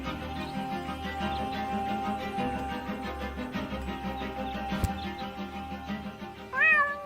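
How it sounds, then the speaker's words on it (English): A cat meows steadily over busy game music in the point-and-click adventure Deponia, the cat stuck up a tree; a louder, rising meow stands out near the end. "my poor kitty climbed up the tree and she's afraid to come down"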